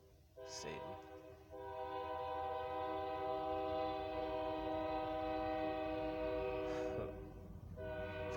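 A passing train sounds a loud, sustained horn that blares steadily for several seconds, rich and multi-toned, over a low rumble of the train, with brief breaks where the tone dips before resuming.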